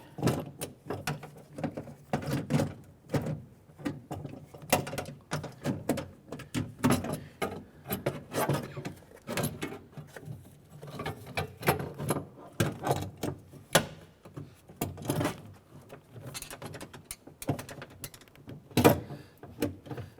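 A power window regulator is worked out of the driver's door of a 2006–2013 Chevrolet Impala, giving a continuous run of close metallic clicks, rattles and clunks.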